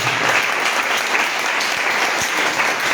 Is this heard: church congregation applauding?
yes